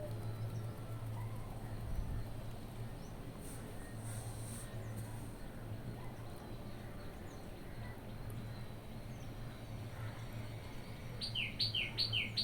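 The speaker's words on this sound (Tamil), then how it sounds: "குருவி கத்திக்கிட்டே இருக்கு ஃப்ரெண்ட்ஸ்" Sparrows chirp repeatedly near a nest holding eggs, the calls mostly faint and scattered over steady background hum, with a brighter cluster of quick chirps near the end.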